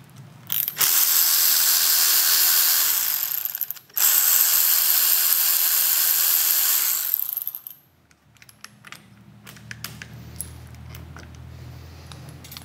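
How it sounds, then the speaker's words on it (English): A ratchet spins out Torx 25 bolts from Harley-Davidson Street Glide handlebars, two long steady buzzing runs of rapid pawl clicks split by a short pause, then quieter scattered clicks and handling noise. "These are Torx 25 bolts. So we're gonna pop them off"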